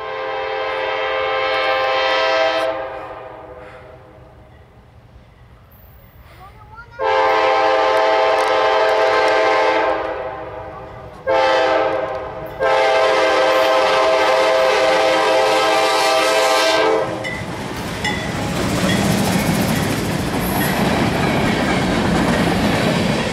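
A CSX freight train led by a Dash 8 locomotive sounds its multi-chime horn at Point of Rocks in long, loud blasts with short breaks, followed by rumbling railcars and wheel clatter as the train passes.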